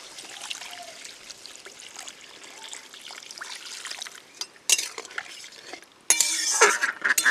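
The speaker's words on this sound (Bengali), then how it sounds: "এবারে দিয়ে দেবো জল" Water poured into a shrimp and gourd curry in a pot, starting as light stirring clinks and a faint trickle, then a sudden loud rushing splash near the end, close with no talking.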